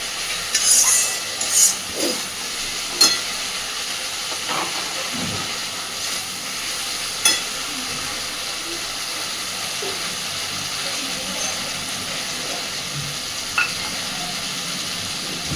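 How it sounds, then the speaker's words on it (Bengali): Eggplant pieces are gently stirred through spices in oil in a pan, giving a soft, steady hiss and sizzle with occasional light scrapes and taps of the spoon. There is no talking. "একটু হালকা হাতে নাড়াচাড়া করে মিশিয়ে দিয়ে সামান্য মিনিট এক দেড় মিনিট মতন এইভাবে এইভাবেই নেড়ে নেব"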